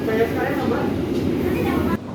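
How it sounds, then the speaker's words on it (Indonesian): Steady low rumble and rattle of the KA Kamandaka passenger train rolling along the rails after leaving Bumiayu station, heard from inside the carriage as a continuous loud drone that drops off abruptly near the end. "perjalanan kereta api Kamandaka sudah diberangkatkan kembali dari stasiun Bumi Ayu"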